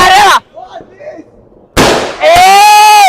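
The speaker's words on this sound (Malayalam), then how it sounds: "നമ്മളെ ന്യൂ ഇയർ വെടിക്കെട്ട്" A 30-shot New Year fireworks cake sends out loud, close bursts, two sharp broadband blasts with crackle separated by a quieter gap, while excited voices whoop and shout around them.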